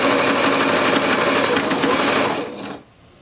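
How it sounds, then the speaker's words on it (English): A sewing machine stitching rapidly through bulky towel fabric with a steady mechanical whir, close by, then slowing and stopping near the end. "my sewing machine seems to be doing just fine"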